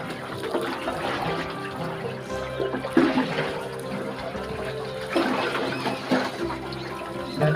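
Water from a 2-inch tubewell boring line, fed by a motor, gushes into a water tank, making a continuous, close rushing and splashing flow that swells and eases slightly.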